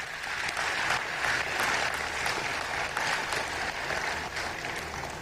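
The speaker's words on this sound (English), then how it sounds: "You can applaud." Sustained audience applause at a youth leaders' summit in Bangkok fills the room, steady dense clapping from a large crowd throughout, with no voices standing out.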